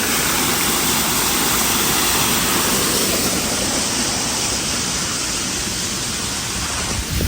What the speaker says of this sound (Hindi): देखें क्या फ्रेश पानी गिर रहा है ऊपर से